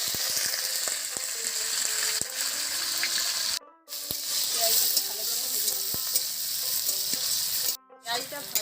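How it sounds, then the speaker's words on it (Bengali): Onions fry in hot oil with bay leaves, whole dried red chillies and caramelised sugar for a Bengali jackfruit curry: a loud, continuous close sizzle with spatula scrapes and clicks, cut by two short silences. "পেঁয়াজটা ভাজা হয়ে গেছে"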